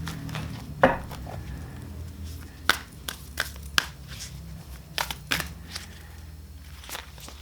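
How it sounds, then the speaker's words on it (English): A deck of oracle cards is shuffled by hand at close range, giving a series of irregular crisp slaps and riffles over a quiet background. "let's give it a shuffle and see what we need to hear tonight"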